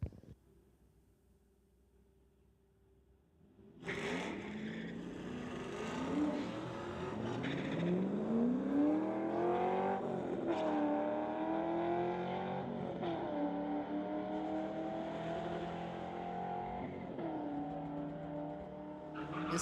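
A 2008 Chevrolet and a Camaro launch side by side in a drag race, engines suddenly roaring after a quiet idle and holding loud, rising revs through gear changes for the rest of the run.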